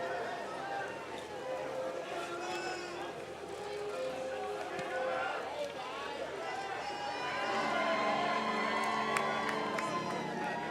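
A crowd cheers along the red carpet steps at the Cannes Film Festival in 2018 for the premiere of Solo: A Star Wars Story. Shouts and whistles carry from a distance, rising toward the end, under a commentator's voice.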